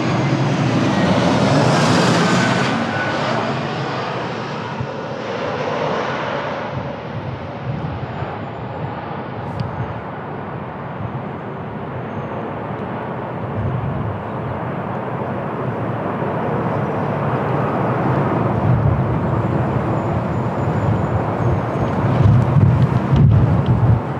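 At a windy Lisbon Airport, a heavy airliner passes with a loud, broad jet roar that swells, eases and builds again over about twenty seconds, mixed with gusting wind.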